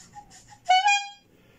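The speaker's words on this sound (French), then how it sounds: "J'avais ajouté les klaxons." A short electronic horn on a 1000W electric scooter honks once, a bright harmonic beep lasting about half a second, preceded by faint tonal chirps.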